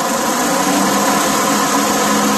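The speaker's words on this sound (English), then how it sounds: "We'll start the mower up here for you." A Deutz Allis 5215 lawn tractor with a 60-inch mower deck runs at a steady, loud idle close by, its engine droning evenly without change for the whole stretch.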